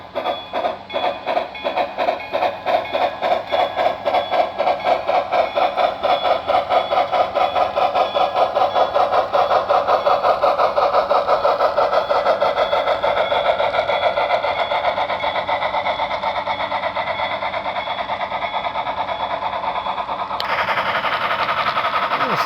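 HO scale Mallet model locomotive, a 2-6-6-2 or 0-6-6-0, running in reverse with a continuous rapid mechanical chuffing and motor whir, close and steady, tone shifting slightly near the end.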